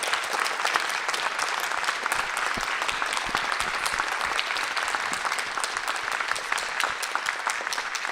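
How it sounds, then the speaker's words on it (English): Sustained audience applause for a panel at a community conversation event at MOHAI, a dense continuous wash of clapping throughout. "Please give our panel a round of applause."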